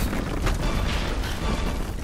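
A sustained explosion rumbles through the Tomb Raider video game as Lara flees a collapsing area, a dense broadband roar with a burst near the middle, steady and loud throughout with no talk over it.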